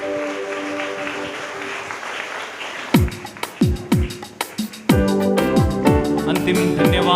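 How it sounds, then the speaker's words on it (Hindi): A church congregation at a worship service claps loudly, starting in scattered sharp bursts and swelling into sustained, dense applause with bright percussive hits. "सब लोग जोरदार तालियां बजा के प्रभु को धन्यवाद दें।"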